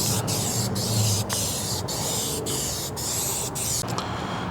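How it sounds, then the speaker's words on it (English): Continuous hissing spray from a spray paint can, broken by regular short pauses as the nozzle is released and pressed again, close up. "spray paint it."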